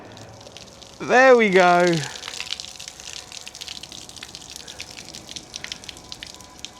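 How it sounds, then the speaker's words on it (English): Rainwater spills off a campervan roof as its legs are lowered, a crackling patter of drips and splashes that carries on after someone speaks briefly near the start. "then the water will come off, which I'll show you now"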